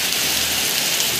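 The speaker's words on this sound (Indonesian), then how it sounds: "hujan deras sekali mengguyur di wilayah Dongko, teman-teman." Heavy rain pours steadily over the Dongko area of East Java, a dense continuous hiss of drops hitting surfaces, close and fairly loud with no voices.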